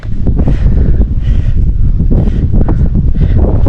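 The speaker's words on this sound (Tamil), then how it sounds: "காற்று காற்று." Strong, steady wind buffets the microphone on the Bothamalai hilltop, a loud continuous low roar with gusting surges throughout.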